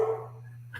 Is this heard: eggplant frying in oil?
no